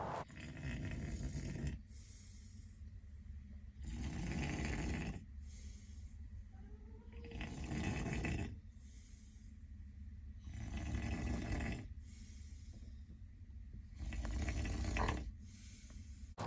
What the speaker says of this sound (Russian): он ночью очень сильно храпел